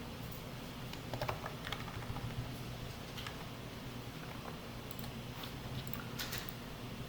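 Computer keyboard typing in a quiet room during Java Lombok setup work, with scattered soft key clicks over a steady low hum, fairly faint and close.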